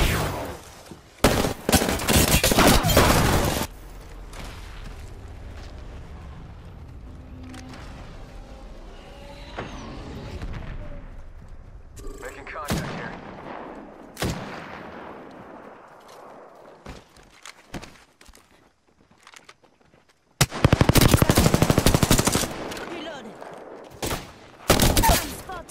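Gunfire in the shooter game Apex Legends, loud close bursts of rapid automatic fire at the start and near the end, with scattered single shots, footsteps and quieter gaps between.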